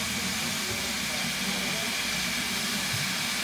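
A steam train gives off a continuous broad hiss of steam, with a low rumble beneath and faint voices in the background.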